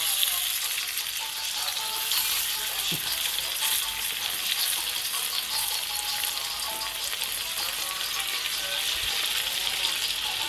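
Steady, bright sizzling of sardine fritters coated in semolina and flour frying in hot oil, continuous and close, with little else audible.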